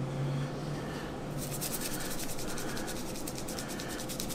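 Scrubbing on a luxury watch, a close, steady rubbing and brushing that runs without a break, growing brighter and more rapid partway through.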